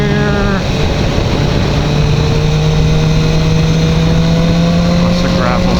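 BMW S1000R motorcycle riding over gravel and sand, its engine holding a steady loud drone with a tone that climbs slightly as it revs, road and wind noise underneath.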